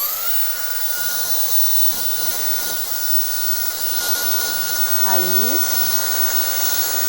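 A hair dryer runs steadily at medium speed during a salon blow-dry straightening of hair roots, a continuous broadband whoosh throughout with a brief spoken word near the end.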